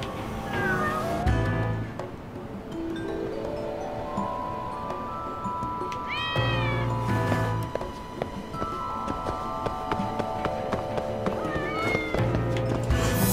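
Cats in the video game Lost Judgment meow repeatedly in short, clear calls scattered across the stretch, set over a steady bed of game ambience and music.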